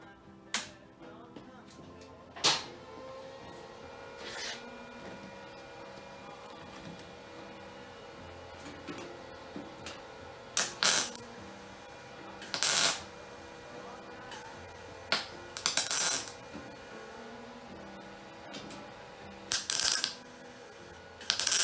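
Tack welds go onto a repair panel patching a hole in a 1967 Camaro body, heard as several short crackling bursts at irregular intervals over a quiet workshop background.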